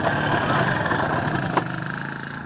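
An Izh Planeta 5 motorcycle engine chugs at a low idle close by, its uneven rhythmic putter fading and weakening just before it stalls.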